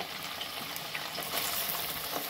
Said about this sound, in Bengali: বাকি পনিরগুলো ভেজে নিচ্ছি।